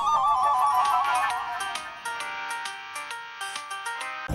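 Mobile phone ringtone playing a bright melodic tune with repeating chime-like notes, fairly loud and steady for a few seconds, with no voices over it.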